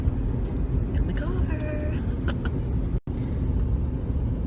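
Inside a moving car, a steady low road rumble and engine drone runs throughout, with faint voices talking over it and a brief dropout near the middle.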